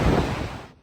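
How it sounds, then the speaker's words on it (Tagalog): Strong hurricane wind from Hurricane Milton roars in Sarasota, Florida, a loud, dense rush of gusting noise that fades near the end of a brief moment. "Halos tangayin ang malakas na hangin ng mga bintana sa ilang gusali."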